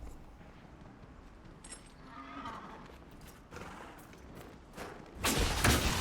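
Horse hooves clop in Dragon Age: Inquisition, a steady, soft rhythm of galloping footfalls on open ground under quiet game ambience, ending in a louder burst.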